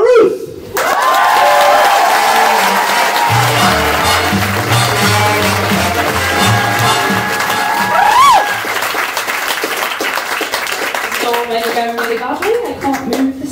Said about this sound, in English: if you could multiply that applause by about 100, give it up